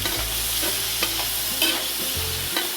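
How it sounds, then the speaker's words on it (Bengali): Frying in a pan with salt and turmeric produces a continuous sizzle, with spatula scrapes and knocks breaking in at irregular moments. "নুন হলুদ দিয়ে ভেজে নেবো"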